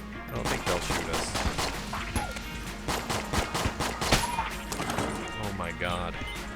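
Basic starting gun firing in Enter the Gungeon, a dense stream of rapid shots mixed with game effects and chaotic hits. Someone talks over the gunfire.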